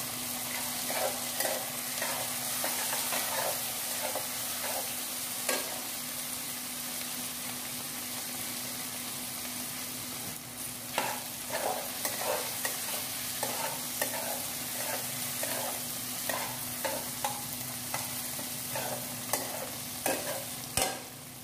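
Chopped tomatoes stir-fried in a pan while making upma, a soft continuous sizzle broken by irregular scraping stirs from a spoon, close and moderately quiet with a faint steady hum underneath.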